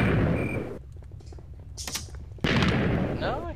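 Gunfire from a squid-shooting video game, several sharp shots and bursts with a dense stretch of rapid reports, fairly loud and close, mixed with game effects.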